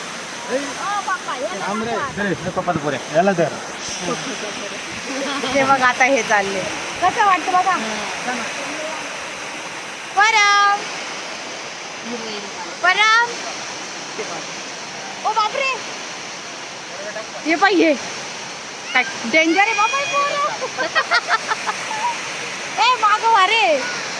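A waterfall's rushing water forms a constant broad hiss in the background, with people talking over it repeatedly at close range.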